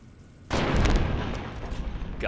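A gunshot in Fallout New Vegas hits sharply and loudly, then trails into a dense, rumbling echo that lingers for a couple of seconds.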